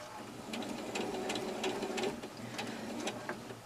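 A sewing machine stitches a patch pocket with a quarter-inch seam allowance, its steady mechanical run moderately loud and continuous, with brief pauses and a few clicks as the needle turns at the corner.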